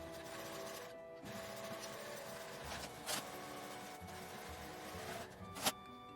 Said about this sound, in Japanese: ここを5ミリの縫い代で縫います